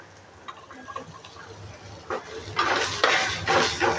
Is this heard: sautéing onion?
yes